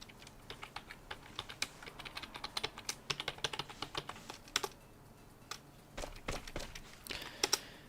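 Fingers type on a computer keyboard in quick, uneven bursts, the key clicks near and soft, with short pauses between runs while working on a Linux machine.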